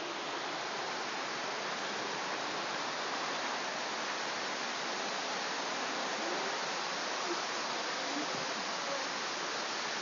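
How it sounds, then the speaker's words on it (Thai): Tat Mok waterfall in Phetchabun, Thailand, a steady even rush of falling water heard as constant broadband hiss, moderately faint and unchanging throughout, with no voices. "ตรงนี้ก็คือ น้ำตกตาดหมอกนี่"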